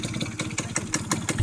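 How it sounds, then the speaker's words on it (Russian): An engine idles at a low speed, with steady rhythmic chugging pulses and a clattering mechanical tone. It sounds close and moderately loud, with no talk. "Но холостые слишком низкие, по-моему."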